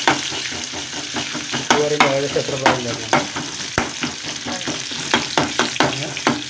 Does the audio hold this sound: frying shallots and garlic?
yes